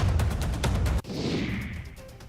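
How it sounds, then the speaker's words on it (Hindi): Fireworks let off by supporters with dhol drums at a street celebration in Gumanpura: dense crackling and popping bursts, with one sharp bang midway followed by a fizzing, fading rush. "समर्थकों ने गुमानपुरा में ढोल नगाड़ों के साथ जमकर आतिशबाजी की"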